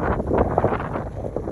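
Cold wind blowing through a park in winter, a steady rough rush buffeting the microphone, loud and close, with no talk.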